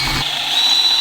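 Power drill boring out a metal bar on a swing-away motorcycle carrier for a van, a steady high-pitched whine with grinding, loud and close for about a second with no talking.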